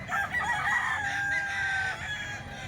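At a fowl market, a rooster crows loudly and close among chickens brought in for sale, with a drawn-out, wavering call filling the whole moment.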